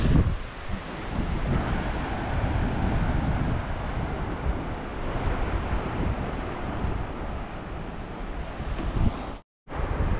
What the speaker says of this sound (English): I hope the wind isn't too bad.